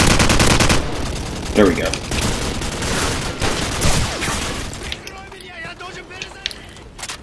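Rapid AK47 automatic fire in the video game Call of Duty 4, loud bursts crackling for several seconds before tapering to quieter game ambience, with a player briefly speaking over it.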